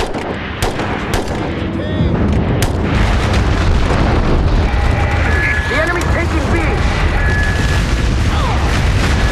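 Enemy weapon strikes land in the multiplayer shooter MAG: dense, continuous battlefield noise of booming blasts and rapid gunfire, loud and unbroken throughout, with a few sharp cracks early on.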